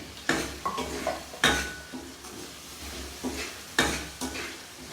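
Whole spices (star anise, cloves, black and green cardamom, cinnamon) fry in hot oil for daal, crackling and sizzling under repeated metallic clanks and scrapes of a spoon against the pot.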